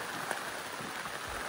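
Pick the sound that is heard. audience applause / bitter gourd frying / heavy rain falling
heavy rain falling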